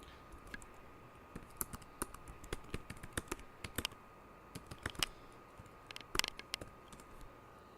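Quick irregular keystrokes on a computer keyboard, close and fairly quiet, with bursts of clicks and short pauses between them.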